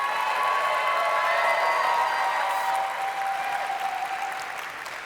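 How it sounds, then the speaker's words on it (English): Sustained applause from a large audience at a cosplay contest, steady and full for several seconds before tapering off slightly at the end. "Let's have another round of applause for Dark Pact Cosplay."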